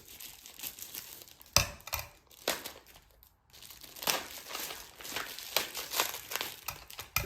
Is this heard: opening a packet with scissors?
yes